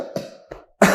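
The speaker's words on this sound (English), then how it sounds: "This is coughing and huffing." A few short coughs, two quieter ones followed by a louder, harsher cough at the end, close and dry with brief silence between.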